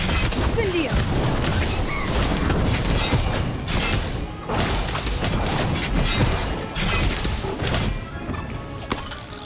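Incendio fire spell in the game Harry Potter: Magic Awakened, sounding as dense, loud booming crashes and thuds that roll on continuously amid game effects and music, with a voice speaking over them.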